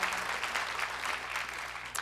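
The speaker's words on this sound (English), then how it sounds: "Pause for applause." Concert audience applause at a Jill Barber show, a fairly quiet, even spread of clapping from the crowd with a low hum beneath.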